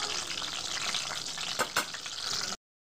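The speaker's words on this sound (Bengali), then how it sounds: "প্রথমে দুটো দুটো করে দিয়েই আমি ভাজবো" Small eggplants fry in oil over a low gas flame, a steady close sizzle with a couple of brief louder crackles, ending abruptly in silence.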